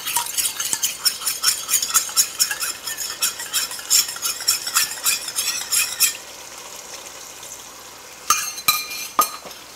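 Cornflour water being stirred into braised pork in a pot, a rapid run of metal utensil scrapes and clinks against the pot over a soft simmering sizzle, then a pause and a few last scrapes.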